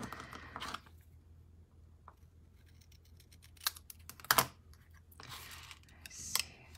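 Paper is trimmed by hand for a craft project: sparse, quiet, crisp snips and clicks close by, separated by short pauses, with a louder cluster near the end.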